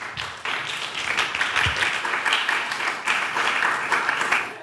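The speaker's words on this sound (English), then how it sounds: "Please help me in giving a warm round of applause to Mr." A warm round of applause from an audience at a luncheon talk in a theater, many hands clapping in a steady, dense patter that holds evenly throughout.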